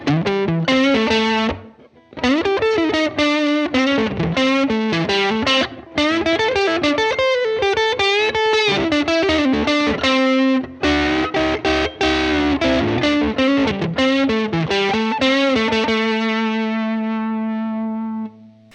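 A Stratocaster runs through a Fender Mustang LT25 amp set for distortion and plays a loud, gritty lead line of bent, sustained notes and fast runs. A couple of short pauses break the phrases, and it ends on a long ringing note.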